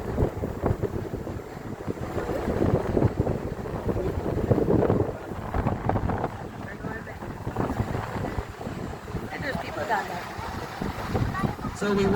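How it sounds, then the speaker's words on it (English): Wind gusts buffet the microphone during a ride on the Whirlpool Aero Car, a cable car suspended over the Niagara River gorge at Niagara Falls, a steady loud rushing roar with swelling gusts throughout. "the wind started to pick up"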